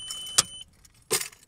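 A car passing outside a window, a short hiss of tyres and engine that swells twice, faint and muffled indoors with no voice.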